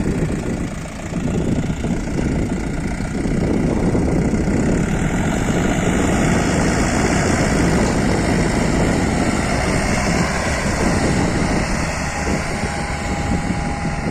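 A DTZ 5404 tractor engine runs steadily in a field while the soil is worked, a loud, continuous low drone with a constant level and no pauses or voices.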